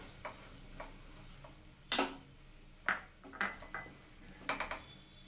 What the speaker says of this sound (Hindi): जब तक ये पूरी तरह से मेल्ट ना हो जाए, इसे चलाते रहना है।